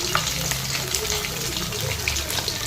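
Fish sizzles in a hot pan, a steady close crackle and hiss that runs the whole time, with faint background sounds beneath it.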